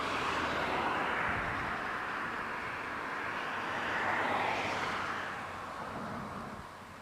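An Airbus A380 airliner arrives at Barcelona El Prat airport with a broad, sustained jet roar that swells and fades slightly over the seconds, heard at a distance with no talking.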